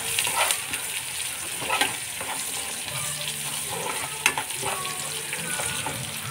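Curry frying in a pan and being stirred, a steady close sizzle with scraping utensil strokes and occasional louder knocks, no talk.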